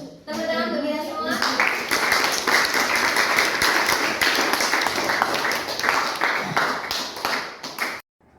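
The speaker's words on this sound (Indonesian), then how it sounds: "Tepuk tangan untuk kita semua." Clapping from a group at the close of a teacher coaching session in a classroom, steady and dense for about eight seconds after a brief spoken moment at the start, then stopping abruptly.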